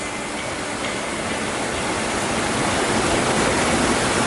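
Stream water rushes near a waterfall at Ma Dai in Hong Kong, a loud, steady, broadband roar of flowing water with no pauses.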